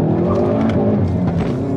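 Hyundai i30 N hot hatch accelerating hard in second gear with wheel spin, its engine roaring loud and close throughout a short, continuous burst of revving.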